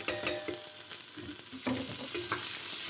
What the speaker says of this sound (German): Und dann tue ich Gerste anbraten.